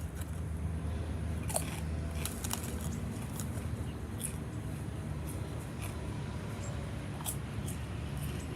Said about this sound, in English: I love the extra crunchy pork rind.